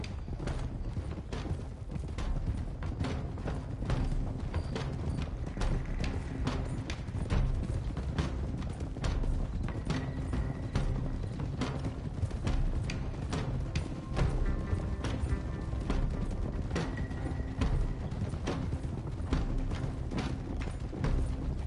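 Horses galloping in Red Dead, a steady run of hoofbeats clip-clopping at a brisk rhythm, loud and close over a low rumbling ground layer with faint music.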